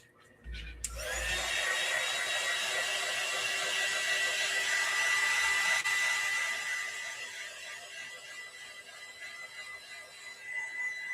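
A hair dryer starts with a click and blows a loud, steady whine and rush of air over a mixed media art piece, easing slightly in pitch and level toward the end.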